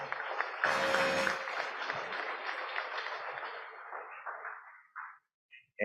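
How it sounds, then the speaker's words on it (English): A general assembly audience breaks into a round of applause, dense clapping from a crowd that swells early, holds steady, then thins to scattered claps and stops, heard somewhat distant in a large room. "Let's give him a round of applause."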